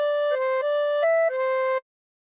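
Tin whistle plays a short phrase of Incy Wincy Spider, about five clear sustained notes stepping in pitch, solo and close, ending after under two seconds into silence.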